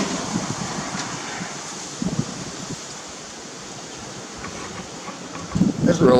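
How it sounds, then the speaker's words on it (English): Steady wind blowing outdoors on a cool day, a continuous broadband rush with gusts buffeting the microphone, swelling louder near the end. "It's really nice and windy and cool out here today."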